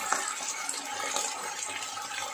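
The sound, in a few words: water poured into pan for sotanghon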